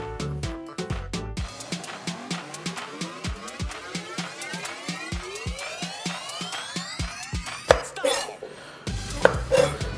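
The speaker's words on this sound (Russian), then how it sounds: "И буду нарезать на вот такие вот шайбочки." A knife chops a hollowed-out vegetable into round slices on a board for a Hawaiian-style shawarma, a steady run of sharp, close cutting taps followed by louder clatter near the end.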